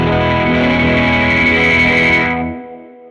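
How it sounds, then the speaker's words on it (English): An OTIS Love Beams Cosmic Echo pedal in a loud fuzz setting, just short of self-oscillation: a dense, saturated distorted tone holds steady for about two and a half seconds, then its echoes fade out quickly to near silence. "So that's a lot of fuzz without sending it in to like self-oscillating"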